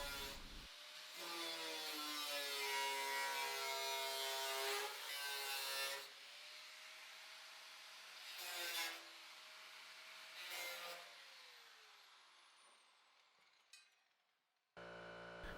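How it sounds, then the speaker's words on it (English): Sheet metal being cut and trimmed around a truck marker light recess on a C10 body, a loud whining, rasping cut for several seconds followed by shorter bursts and a fading tail, no talking. "I'm going to trim the marker light recess area as tightly as possible."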